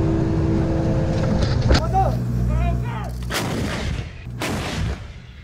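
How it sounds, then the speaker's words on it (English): Coastal defense artillery guns firing during drills in Pingtung, Taiwan: loud booming blasts near 1.7, 3.3 and 4.4 seconds over a steady rumbling background of engines, with no speech. "The first wave uses artillery pieces to destroy enemy ships."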